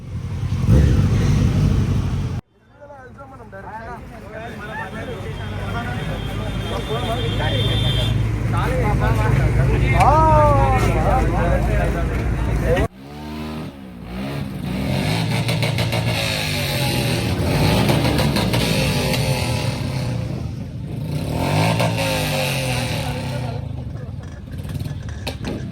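A superbike engine revs loudly up close, surging and dropping in pitch across several throttle blips, while people talk over it throughout.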